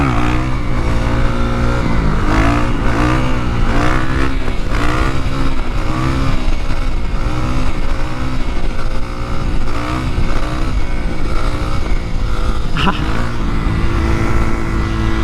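A KTM Duke motorcycle being ridden with its check engine light on, engine running steadily and loudly throughout with shifting revs and strong wind noise, up close. A voice talks over it.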